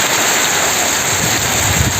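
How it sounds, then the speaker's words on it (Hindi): A dense, even roar of heavy rain falls in Diphu, close and loud for a couple of seconds with no break. "आज काफ़ी दिनों बाद दीपू में बारिश है।"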